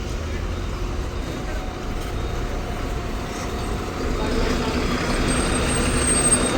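Vehicle engine rumble and idling of KSRTC buses at the Mysuru suburban bus stand, a steady low drone that swells slightly toward the end, with faint voices in the background.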